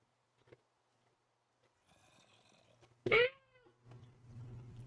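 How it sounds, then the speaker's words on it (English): A cat gives one loud, drawn-out meow close by, preceded by faint rustling and followed by low murmuring background sound. "Fucking cat."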